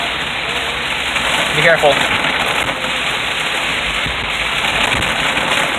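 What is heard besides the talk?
heavy rain during flood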